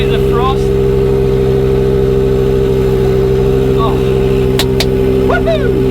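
A Hürlimann tractor on bigger tyres runs steadily close by, its loud, even engine drone holding throughout with a few faint squeaks and clicks over it.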